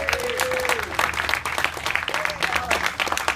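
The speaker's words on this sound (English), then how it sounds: "A special round of applause to him, please." Applause from an audience at an official opening ceremony for a club extension, steady dense clapping filling the room throughout, with a few voices audible underneath.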